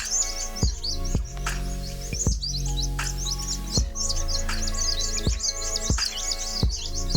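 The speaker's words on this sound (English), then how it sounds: "Some interesting sounding birds." Birds chirp and trill in rapid, busy calls along a bush hiking trail, joined by sharper repeated notes, close and fairly loud against a steady hum.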